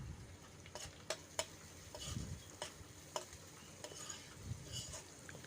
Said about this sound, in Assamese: দি উঠি আমি গোটেইখিনি ভালদৰে লৰাই দিম